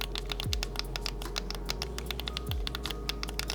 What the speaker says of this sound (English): They're also very loud and clicky